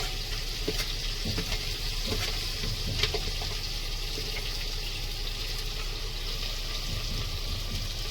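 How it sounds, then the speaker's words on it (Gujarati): Onion and potato curry sizzling in hot oil during tempering, a steady close crackle with occasional scrapes and clinks of stirring, no talking. "શાક વઘારું છું."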